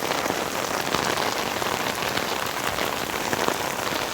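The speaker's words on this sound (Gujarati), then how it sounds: "પેલી બાજુ તો વરસાદ ફૂલ થઈ ગયો." Heavy rain pours in Dubai, drumming loudly and continuously on surfaces nearby as a dense, unbroken hiss with no voices.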